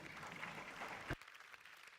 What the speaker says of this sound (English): Your future students are applauding you.